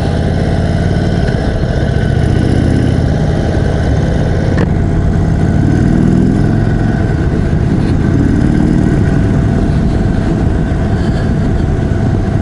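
A 2021 Indian Chief Dark Horse cruiser motorcycle runs steadily, its big V-twin engine rumbling low and continuous at close range while ridden gently, with no voices over the throb.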